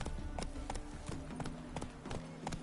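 Hooves of Geralt's horse Roach clip-clopping in The Witcher, a steady trotting rhythm of distinct close hoof strikes, about two per second, fairly clear with no talk.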